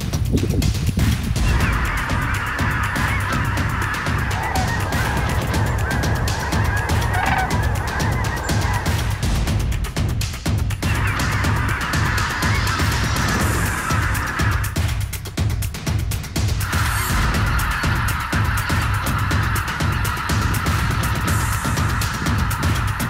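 A large flock of geese honks continuously at an early-season teal hunting spot in Texas, a dense chorus of calls rising and falling in waves, loud and near, with no talking.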